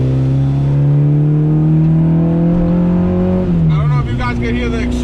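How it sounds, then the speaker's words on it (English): Honda Civic EG exhaust drones loud and close from inside the car under acceleration, pitch rising steadily before a gear change drops it, then the revs climb again with a raspy edge. "You guys can hear the exhaust. I love the way the exhaust sounds."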